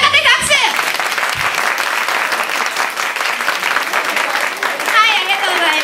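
Party audience at a graduation celebration clapping loudly as a vote in a BGM battle, a dense sustained round of applause with a few voices and cheers mixed in.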